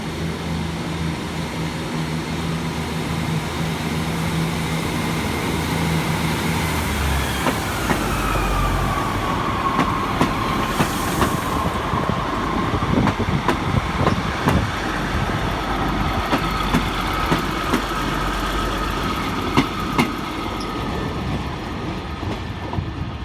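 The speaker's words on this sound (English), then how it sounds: "Great Western Railway service to Exmouth from Paignton for another double 150 Sprinter" A Great Western Railway double Class 150 Sprinter diesel unit at Exeter St David's, running from Paignton towards Exmouth, rumbles past with a steady engine drone and rhythmic wheel clatter, loud and close throughout.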